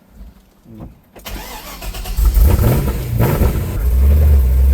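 A truck engine cranks, catches and roars to life, then revs up and settles into a loud rumbling idle, close by.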